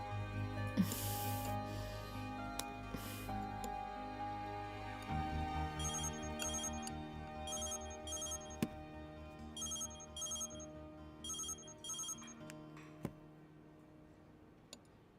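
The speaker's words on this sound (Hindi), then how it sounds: "इस समय किसका फोन था?" A phone ringtone plays in repeated electronic bursts over soft background music, fairly clear and close.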